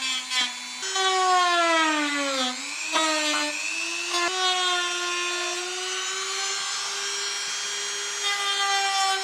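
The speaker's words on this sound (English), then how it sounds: "I've got some sandpaper on my Dremel tool" A Dremel fitted with rough sandpaper cuts a plastic grille on a 2015 Mercedes-Benz C450, giving a close, high-pitched whine that dips and rises in pitch as the tool loads and frees up.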